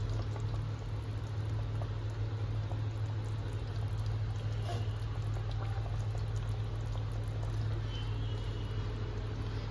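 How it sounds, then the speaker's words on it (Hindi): Masala gravy for a Bihari-style papta fish curry bubbles at a boil in a pan, a steady close bubbling and low simmering hum with faint soft plops as fish pieces go in, no talk. "इधर हमारे मसाले में बॉईल आ गया है, अब इसमें हम फिश को छोड़ देंगे"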